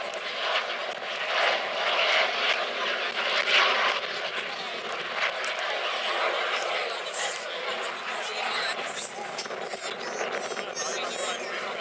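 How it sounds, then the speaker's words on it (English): Jet aircraft at an airshow, throttle opened with afterburners lit, producing a loud, continuous broadband roar that swells and rumbles over the crowd for the whole stretch, with faint voices underneath. "listen as he opens up the throttle, almost slams the aeroplane on its tail, selects the afterburners on, and accelerates into the fire."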